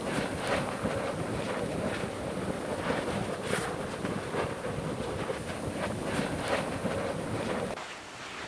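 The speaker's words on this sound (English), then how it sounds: "sloshing and spattering lava, hissing rain, the beating sound of gas bubbles bursting" At a frothy, gas-rich vent on Kīlauea, lava sloshes and spatters steadily, with bursting gas bubbles giving a beating, rushing roar and repeated pops. A hiss of rain runs beneath, and the sound stays dense and continuous throughout.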